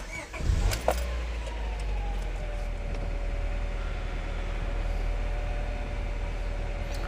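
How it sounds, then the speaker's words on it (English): A Honda Prelude engine cranks with a short burst of noise, catches, and settles into a steady, quiet idle. "Turn on the engine."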